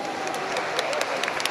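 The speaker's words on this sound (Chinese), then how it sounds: "大家掌声鼓励。" An audience at a Taipei Marathon news event gives a short burst of fairly faint applause, scattered claps over a steady room background.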